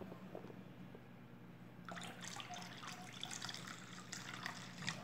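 Liquid coconut soap is poured into a basin of water, making a faint, splashy pour that starts partway through and continues unevenly, with soft trickles and sloshes in a quiet room.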